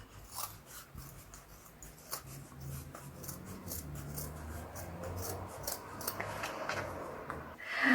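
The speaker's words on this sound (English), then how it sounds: "So I'm going to cut this bit off." Scissors snip through denim as a jeans pocket is cut apart for upcycling, a faint, close, steady run of rasping cuts with a few sharper snips and no talk.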